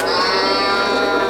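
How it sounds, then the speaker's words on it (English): A sustained, loud cow moo plays as a sound effect on a model train layout. It is a single steady, droning call that fills the whole brief moment. "And we might as well add the cow from the farm."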